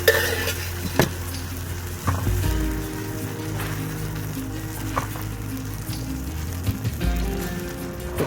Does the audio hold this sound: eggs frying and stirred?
yes